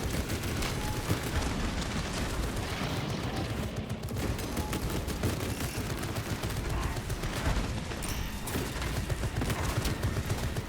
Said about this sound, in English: The servo gun do its job.